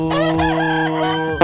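A single rooster crow, loud and close, stretches across the whole moment in a Telugu comedy skit, with no talk over it.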